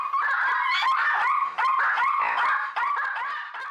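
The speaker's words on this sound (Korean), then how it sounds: "안 나오면 더 짖을 거야." Dogs bark, yip and whimper continuously and loudly nearby as tension rises between a cat and dogs sharing a home, with overlapping excited calls and no speech.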